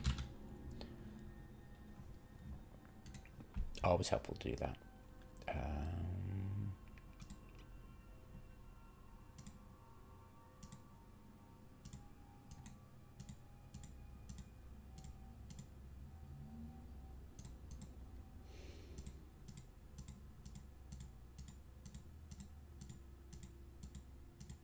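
Names are typed on a computer keyboard while playing Eve Online with multiboxed characters: quick, irregular key clicks in scattered bursts, fairly close and quiet, with a short stretch of talk near the start.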